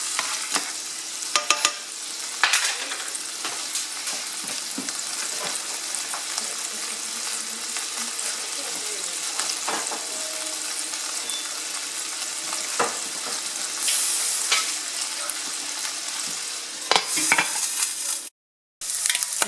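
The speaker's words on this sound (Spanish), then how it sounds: "Dejen que el jamón se dore por ciertos minutos." Ham browns in a frying pan for pork fried rice, giving a steady, close sizzle and crackle with occasional stirring scrapes and a brief dropout near the end; no talking.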